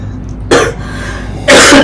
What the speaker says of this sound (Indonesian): udah hanya batuk aja